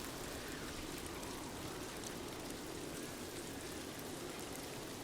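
Rain falls in Ghost of Tsushima as a faint, even hiss of drops on surfaces, continuous and unbroken, with no voices.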